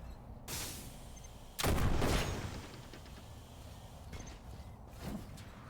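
A gun fires in a video game: a few separate shots and short bursts, fairly faint, spaced irregularly with quiet background between them.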